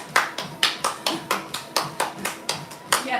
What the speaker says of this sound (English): let's give lovely teacher Ruth